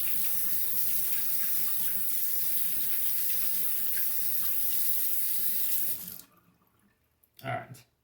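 A kitchen tap runs steadily over a Japanese natural whetstone pocket stone, rinsing it for about six seconds before the flow cuts off, leaving a short faint drip and clatter afterward.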